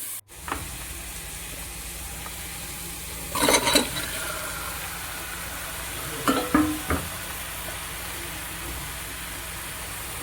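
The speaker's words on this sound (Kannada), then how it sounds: "ಟೊಮೆಟೊ ಹಣ್ಣನ್ನು ಸೇರಿಸಿ ಟೊಮೆಟೊ ಸಾಫ್ಟ್ ಆಗುವವರೆಗೂ ಫ್ರೈ ಮಾಡ್ಕೊಳ್ಬೇಕು." Chopped onion, slit green chillies and diced tomato fry in a pan with a steady, low sizzle, broken twice by brief louder bursts of stirring.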